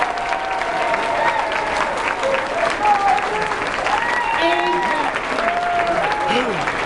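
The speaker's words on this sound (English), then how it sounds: "let's give another round of applause for our fabulous first graders." Steady applause from parents at a first-grade school play, a continuous crowd of clapping with excited voices and chatter mixed in throughout.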